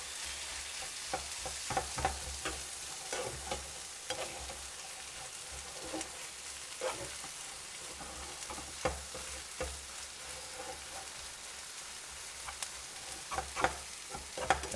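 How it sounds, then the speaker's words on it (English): Filipino corned beef and rice being mixed and folded in a hot pan, giving continuous close frying sizzle with scattered scraping strokes and no speech. "So you can start mixing it, folding it, where all the meats and vegetables kind of mix together."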